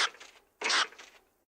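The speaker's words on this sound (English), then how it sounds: "That's a stoat barking." A stoat barks when threatened: two harsh, raspy bursts about half a second apart, the second louder and longer, heard close and alone with no talking.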